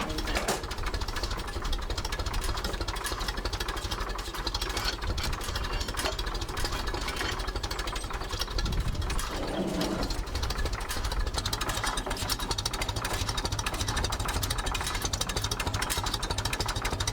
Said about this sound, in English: for those of you who wanted to see it slow idling, this is about as far as I'm comfortable taking it